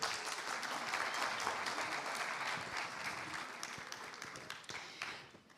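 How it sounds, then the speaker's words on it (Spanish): An audience at a fashion-film panel event claps in sustained, even applause that gradually thins out toward the end. "les pido un aplauso para ellos"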